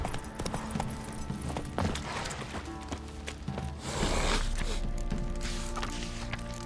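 Roach the horse in The Witcher 3 trotting along with steady hoof clip-clops, mid-distance and moderately loud over game ambience, with a louder rushing burst near the end.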